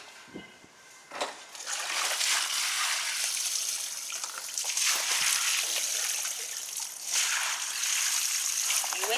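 Water splashes and gushes steadily while ginger is washed, a loud continuous sloshing stream with brief pauses and small drips near the start.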